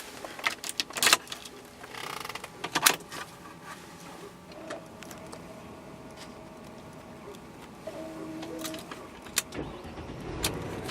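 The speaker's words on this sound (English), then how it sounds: "Fires right up, very smooth engine." A Mercedes-Benz ML 320 W163 engine cranks and fires up, then settles into a quiet, smooth idle, with clicks and small mechanical noises nearby.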